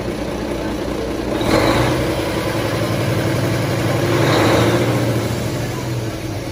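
An engine on a rig truck idles loudly close by, then revs up in two smooth swells, each rising and falling before settling back to the idle, with a voice partly audible over the steady engine noise.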